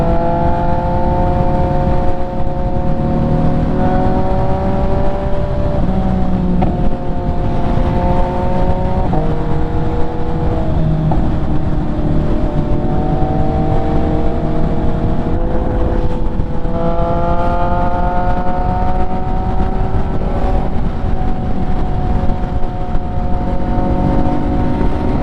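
An MV Agusta motorcycle is ridden, its engine droning steadily and loudly throughout, with the pitch rising and falling as it revs and shifts.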